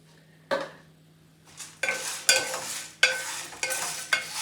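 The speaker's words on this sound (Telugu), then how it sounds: "సో చూసారుగా కొంచెం శనగపప్పు రోస్ట్ అయింది కదా" Chana dal roasting in a pan with a little oil for homemade curry leaf and moringa powder, heard as a series of close scraping stirs and rattling lentils against the metal, coming in irregular bursts without any talk.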